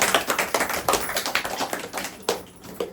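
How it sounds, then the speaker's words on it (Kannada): Loud applause from a gathered group at a meditation talk, dense overlapping claps rising and falling over a few seconds, close and alone with no talk. "ಒಂದ್ಸಲ ಜೋರಾಗಿ ಚಪ್ಪಾಳೆ"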